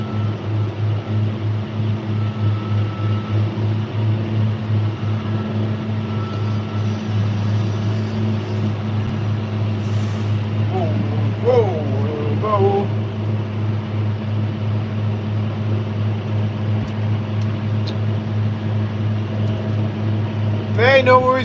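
Tractor engine running steadily while mowing hay, a loud constant low drone with a throbbing hum, close by throughout, with a few brief higher squeaks or whines partway through and near the end.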